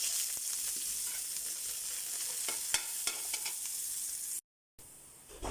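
Garlic sautéing in hot oil for a ginisang munggo mung bean dish, a steady close sizzle with occasional stirring clicks and scrapes, briefly cutting out near the end before resuming.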